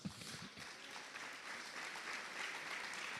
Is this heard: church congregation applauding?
yes